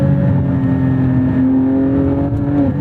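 Porsche 718 Spyder's naturally aspirated engine hums at a steady, loud drone from inside the car, holding a sustained note that rises slightly before easing off, with no talk over it.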